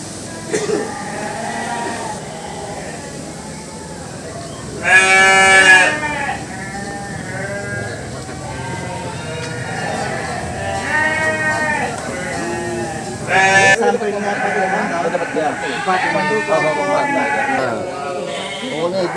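Sheep and goats in a goat pen bleat in short bursts, with a couple of louder nearby calls standing out over steady voices talking throughout.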